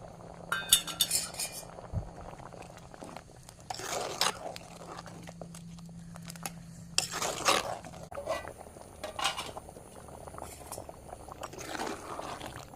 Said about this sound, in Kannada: ಇದಕ್ಕೆ ಒಂದು ಟೊಮೆಟೊವನ್ನು ಕಟ್ ಮಾಡಿ ತೊಗೊಂಡಿದ್ದೇನೆ ಅದನ್ನು ಹಾಕ್ತೇನೆ